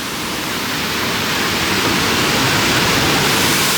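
Waterfall at Shanghai Disneyland roaring as a loud, steady wash of broadband rushing water, close and unbroken, with no voices.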